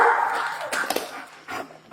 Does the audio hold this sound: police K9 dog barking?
yes